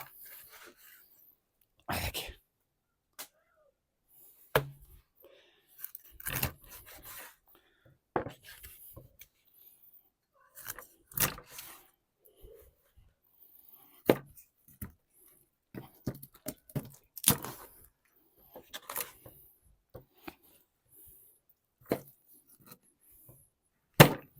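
A knife cuts a zander into pieces about three centimetres long, producing sharp, scattered chops and taps against a board, close and crisp, separated by stretches of near silence.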